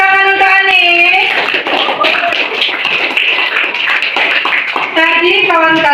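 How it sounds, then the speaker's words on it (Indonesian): Classmates in a university teacher-training lesson clap for a student, a burst of several seconds of close, tappy hand claps between stretches of a speaking voice. "tepuk tangan untuk Anis"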